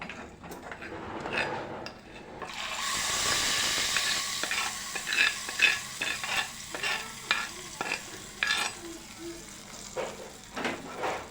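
Curry leaves and turmeric tempering for pachi pulusu sizzle in hot oil, building to a loud crackling burst, then settle into steady frying with repeated stirring scrapes and clinks of a utensil against the pan.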